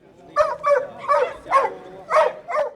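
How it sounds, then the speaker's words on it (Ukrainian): Hunting dogs, hounds and pointers, bark at a dog show in Khmelnytskyi, Ukraine, giving six evenly spaced, loud, close barks in a steady rhythm. "На виставку до Хмельницького привезли мисливських псів з кількох областей України."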